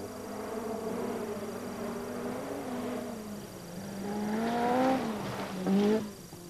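Vatanen's rally car in 1984 testing for the 1000 Lakes rally, its engine buzzing and rising through gear changes, swelling louder as it passes near, then revving hard toward the end.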